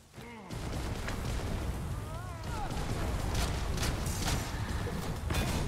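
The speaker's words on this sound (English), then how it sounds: "I see my explosion." Rumbling explosion blasts and crackling combat effects fill a fantasy battle in the video game Dragon's Dogma 2, a dense continuous roar with someone talking over it.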